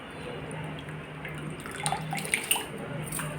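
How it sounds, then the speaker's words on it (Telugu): Soaked split moong dal is rinsed by hand in water before being made into crispy pesara garelu fritters. Soft continuous sloshing and trickling is followed by a few brighter drips and splashes near the end, close up, with no talking. "ఇది వాటర్ ఎక్కువ లాగకుండా మేము ఇట్లా కడుగుతాం."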